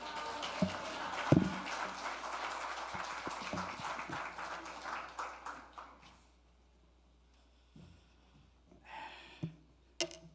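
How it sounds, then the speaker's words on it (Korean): A church congregation claps to welcome a guest pastor, a dense patter of applause filling the first six seconds before thinning out, with a few scattered claps near the end. "우리 강사 목사님 우리 큰 박수로 할렐루야로 인사하면서 환영하겠습니다"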